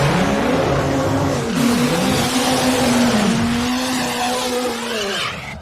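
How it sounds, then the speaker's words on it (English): A race car lays down a burnout at the ATCO night races, its engine revving hard with a steady screaming whine and squealing, smoking tires, loud and close throughout before cutting off near the end. "A little bit shorter burnout than he did last time."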